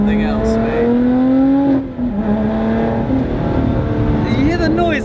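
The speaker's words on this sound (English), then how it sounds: "Did you hear the noise of when I change gear?" Supercar engine revving loudly up through a steady rising tone, then briefly dipping and catching again at a gear change, with high whines and engine harmonics continuing; someone talks over it.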